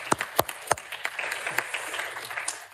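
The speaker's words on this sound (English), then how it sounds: "You can applaud yourself." Scattered applause from a small audience at a conference closing speech, with a few loud, sharp individual claps at the start over a softer, thin patter of clapping.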